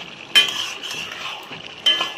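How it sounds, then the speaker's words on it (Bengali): Bottle gourd curry is stirred in a pan, two distinct scraping strokes of a utensil against the metal with a soft sizzle between them, close by. "তো জলটা শুকনো অবধি একটু নাড়াচাড়া করে নেব।"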